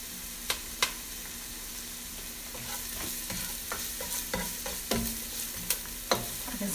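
Chopped garlic frying in a pan, a soft steady sizzle broken by a series of sharp clinks and scrapes from stirring, close and fairly quiet, with no talking.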